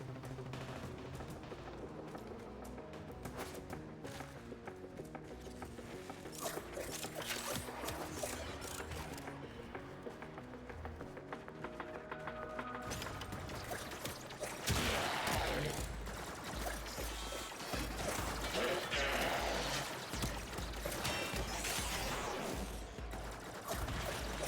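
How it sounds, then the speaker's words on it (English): Gunfire in a video game, with dense rapid bursts and volleys of shots going on continuously, growing heavier and louder in the second half, with mechanical clatter mixed in and no talking. "So many gun noises, but I cannot see anyone."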